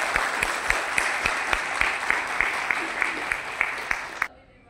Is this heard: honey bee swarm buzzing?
no